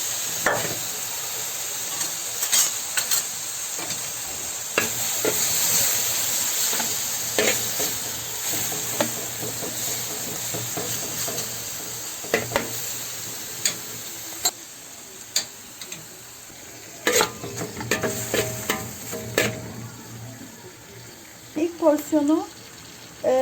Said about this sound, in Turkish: Ben hemen şimdi haşladığım eti bu şekilde tacımın içerisine koyuyorum.